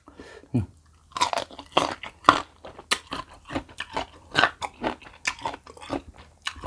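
Loud, close crunching as salt-pickled mango in an old-style recipe is bitten and chewed, a steady series of crisp crackly bites and chews with brief pauses between, no talking.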